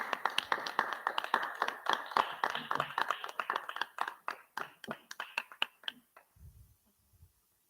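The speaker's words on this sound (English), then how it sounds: "Please give a big round of applause for our chief guest." An audience at a Republic Day celebration applauds a chief guest with a burst of many hand claps that thins out and fades to a few scattered claps at the end, moderately loud in a hall.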